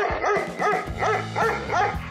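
A dog barks roughly five times in an even rhythm, sharp and close, with a yelping edge and no voices over it.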